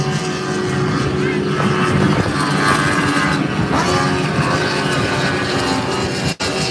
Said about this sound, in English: Smoking the Bandit 2 with his 175 horsepower Yamaha four-stroke engine